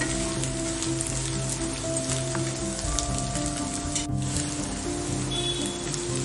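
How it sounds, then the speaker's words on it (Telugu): Boiled colocasia (taro) pieces fry on low heat in a pan, making a steady, dense crackling sizzle like light rain, with a few clinks of stirring and no voices. "మనం ఇప్పుడు సిమ్లోనే ఫ్రై చేసుకుంటూ ఉన్నాము"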